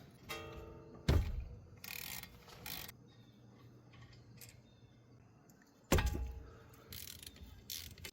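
A wrench working the 14 mm caliper bolts on a Toyota Camry's front brake: close metallic clanks and ratchet clicks, with two loud knocks separated by quieter rattling.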